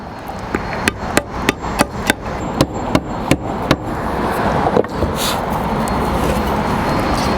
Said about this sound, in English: or you can just use your hammer